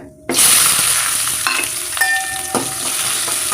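Oil sizzles steadily as onions and green chilies fry for a meal maker (soya chunk) fry, with a few stirring scrapes and clinks from a utensil in the pan, close up.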